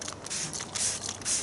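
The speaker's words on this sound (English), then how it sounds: "I spray it onto a microfiber pad and I just wipe the surface of the car over" Several short hissing spray bursts of Technic panel wipe from a trigger bottle onto a microfiber pad while preparing car paintwork in a garage, close and fairly quiet with brief pauses between squirts.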